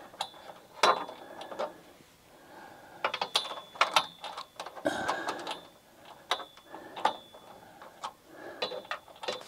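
A 10 millimeter ratchet wrench clicks as it turns a bolt while rocker guards are fitted to a Jeep Wrangler JK, in quick irregular bursts of close, light ticking separated by short pauses.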